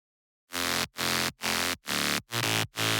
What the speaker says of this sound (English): like you play like a saw wave with a sub to it.